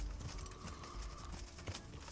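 Horse hooves in the medieval game Kingdom Come: Deliverance, a steady clip-clop approaching under dense outdoor game ambience and a faint tonal hum.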